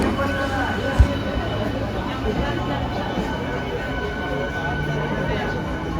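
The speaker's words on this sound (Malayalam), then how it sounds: "നല്ല തിരക്കുള്ള റെയിൽവേ സ്റ്റേഷനാണ് തൃശ്ശൂർ" A steady rumbling din of busy Thrissur railway station with a train running, a single thud early on, and voices faintly in the background.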